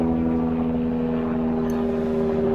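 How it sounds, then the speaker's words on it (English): A helicopter's steady droning hum with a low rotor throb hangs continuously overhead, loud and unbroken, with no voices. "Helicopters circling over."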